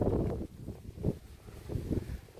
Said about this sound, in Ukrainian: Вітряна дивіться.